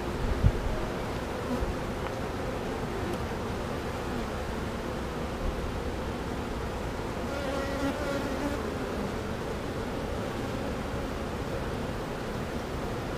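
Honeybees buzz at an open hive in a steady, soft drone of many wings, close but low in level, with occasional louder passes of single bees nearby.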